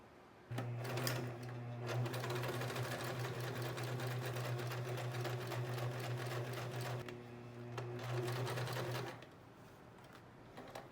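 A sewing machine stitches straps onto the body of a homemade halter top, a steady close whirring hum with rapid needle ticking that runs for several seconds, briefly eases, then stops.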